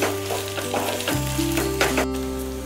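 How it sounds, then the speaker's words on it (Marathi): Mashed potato is stirred into sautéed onions in a pan, a steady close sizzle with repeated scraping and stirring strokes, including a sharp clack partway through and no voices. "आता आपण कुस्करून घेतलेला बटाटा टाकायचा आहे। तो हे यामध्ये मिक्स करून घ्यायचा आहे आपल्याला।"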